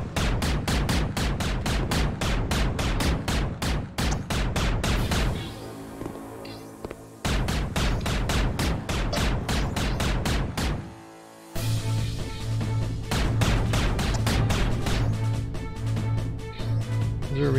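Rapid bursts of game gunfire from Alien 911 Prologue crackle in dense, loud volleys, pausing briefly twice before resuming in sustained automatic streams with a low hum beneath.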